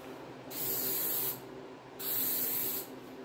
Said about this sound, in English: spray cans hurt my tip of my finger